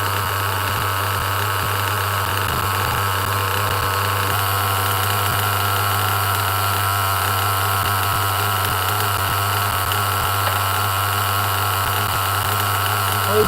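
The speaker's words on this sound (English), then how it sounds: "Listen to that idle. Nice and low. The only reason the wheels are spinning is because it's off the ground." A Losi nitro RC car engine idles low and steady, its wheels spinning freely off the ground, giving a constant, even drone throughout with no talk.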